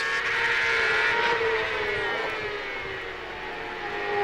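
CART race cars at speed on the Cleveland circuit during 2002 Friday qualifying, a steady loud engine whine with shifting pitch as a car travels by at a distance, no voices.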